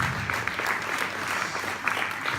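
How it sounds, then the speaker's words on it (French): Brief burst of audience applause in a festival theater hall for a new screen on stage, dense and steady clapping for a couple of seconds. "On applaudit le nouvel écran."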